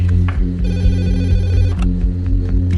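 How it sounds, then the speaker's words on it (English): A telephone rings loudly and continuously late at night in a home in Bhopal, India, a steady electronic bell tone with a pulsing rhythm and no speech over it. "I got telephone call from the hospital."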